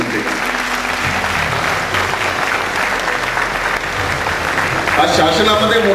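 Journalists at a press building inauguration applaud the chief minister, a sustained burst of many hands clapping in a hall that swells slightly louder toward the end.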